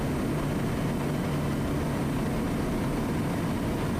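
A loud, constant drone of a bush plane's propeller engine fills the cabin during low-level flight, steady and unbroken throughout.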